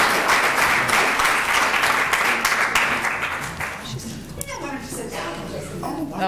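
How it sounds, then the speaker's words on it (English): Loud, steady applause from an audience at a candidate forum meeting, which tapers off midway as a speaker's voice takes over in a reverberant room. "give a round of applause to the candidates"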